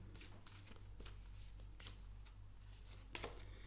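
Oracle cards being shuffled by hand during an angel-advice tarot reading, a steady run of soft papery riffles and flicks at a quiet level, with no talking over them.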